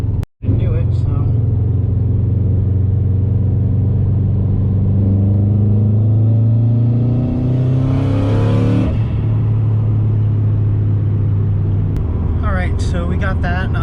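A 2004 Subaru WRX STI engine pulls at wide open throttle, a loud droning roar rising steadily in pitch for several seconds before the throttle lifts and it settles into a lower cruising rumble.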